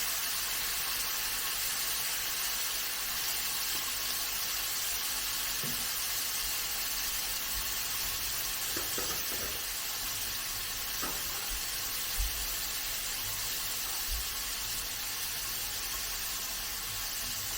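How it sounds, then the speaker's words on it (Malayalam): Chicken fries with onion, tomato, salt and turmeric in oil over a low flame for chicken curry. A soft, steady sizzle hisses throughout, with a few light knocks of stirring. "ഇനി ആ എണ്ണയ്ക്കകത്ത് കിടന്നാൽ സവാളയും തക്കാളിയും എല്ലാം കൂടെ കഴിഞ്ഞിട്ട് ചിക്കൻ ഒന്ന് 2-3 മിനിറ്റ് ഒന്ന് ഫ്രൈ ആയി വരണം"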